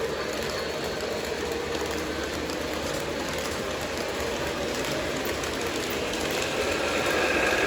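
A custom-run Blue Comet model train pulls a line of rolling stock, giving a steady, continuous rolling rumble with faint rail clatter, close and even throughout.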